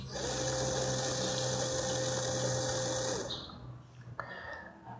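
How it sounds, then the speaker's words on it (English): A small LEGO WeDo motor whines steadily at high pitch for about three seconds, then spins down and stops, leaving faint room noise and a single click, close and without talk. "the motor is being triggered by the sound of my voice"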